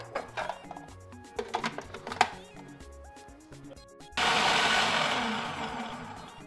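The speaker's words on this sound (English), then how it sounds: "So I'm just going to put the okra into my food processor." Food processor blending okra: a few chopping pulses and clatter at first, then the motor starts and runs as a loud, steady whirring grind for the last couple of seconds.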